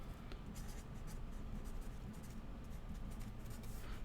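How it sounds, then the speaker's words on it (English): Pen or pencil writing math on a page, a continuous scratchy scribbling with short repeated strokes, close and steady throughout with no talk. "It feels like I'm writing off the page."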